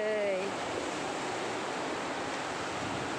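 Sea waves wash steadily onto a beach where children are playing in the water, a broad continuous surf roar that fills the whole stretch, with a brief high voice near the start.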